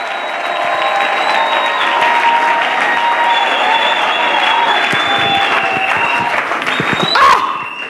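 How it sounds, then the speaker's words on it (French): A church congregation at a Sunday service applauds continuously and loudly, sustained clapping from a crowd with faint voices mixed in. "Acclamons le Seigneur très fort."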